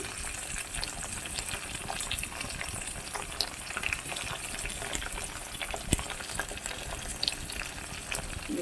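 Chopped tomatoes sizzling in a pan of oil with fried onions while a chikkuduka tomato curry is cooked, a steady close crackle and hiss running throughout with small pops and stirring clinks.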